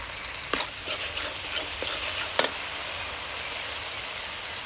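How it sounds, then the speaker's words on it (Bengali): Poppy seed paste with tomato paste stirs and fries in a pan for a pointed gourd dish, a constant soft sizzle broken early on by several scraping, tapping strokes of a spoon, then smoother frying alone. "অল্প একটু সময় ধরে পোস্তটা নাড়াচাড়া করে নেওয়ার পর দিয়ে দিচ্ছি টমেটো বাটা"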